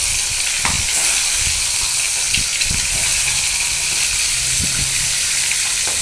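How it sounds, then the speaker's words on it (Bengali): Eggs fry in hot oil in a wok, giving a loud, continuous bright hiss and sizzle that stays steady throughout, with soft low bumps underneath and no talking. "এই যে সবগুলো ডিম আমি কড়াইতে দিয়ে দিচ্ছি।"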